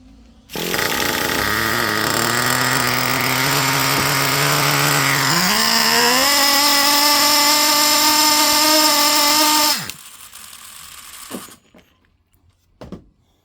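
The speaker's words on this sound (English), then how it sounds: "I'm gonna fire it back up again." Traxxas Revo 3.3 nitro RC car engine, running too rich, screams loud and close at full throttle for about nine seconds with pitch climbing partway through, then cuts off abruptly, leaving faint clicks and rattles.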